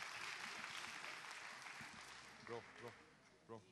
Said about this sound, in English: Please join me giving them a big round of applause, please.